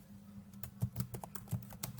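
Keys tap on a computer keyboard while text is entered in Google Colab, giving a soft, uneven run of clicks over a low background hum.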